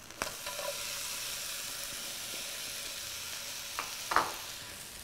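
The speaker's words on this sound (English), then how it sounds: "So into the pan, we're going to add some sliced onion." Sliced onion sizzles steadily in hot pan drippings left from cooking chicken, a constant close hiss with a few brief clicks and a louder crackle near the end, no talking.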